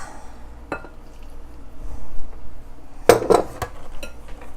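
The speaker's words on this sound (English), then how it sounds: "I'm going to mix this with the milk" Cupcake batter being mixed with milk in a bowl, heard as utensil scrapes and a few sharp clinks against the bowl's side, with a brief word from a speaker at the start.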